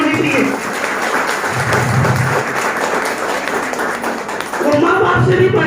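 An audience at a motivational talk on direct selling claps for a guru, giving a dense, sustained round of applause that fills the room, with voices mixed in beneath the clapping.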